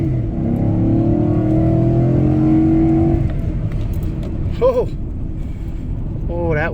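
A Ford F-150 pickup fitted with a Roush cold air intake accelerates hard, its engine note climbing loudly for a few seconds before dropping off. Brief high squeals or chirps follow over a lower ongoing rumble.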